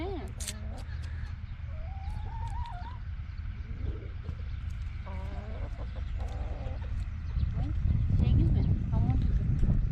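Chickens cluck around a village house, scattered calls rising and falling under ongoing conversation and laughter, with a steady outdoor background hum.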